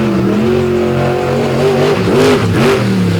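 A race truck powers down an obstacle track at a night event in Benson, North Carolina, its loud engine revving and wavering in pitch through several rises and dips before surging hard near the end.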